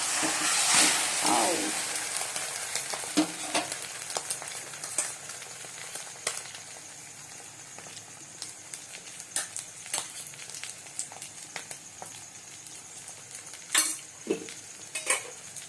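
Two eggs frying together in a pan hiss and crackle steadily, with occasional scrapes and taps of a utensil against the pan.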